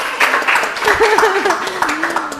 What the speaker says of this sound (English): Sorry, I can see people want to clap. We clap.